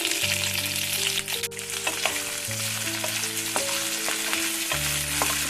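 Garlic fries in hot oil for a holige saaru, giving a close, even sizzle that runs throughout, broken by light stirring clicks. No one speaks.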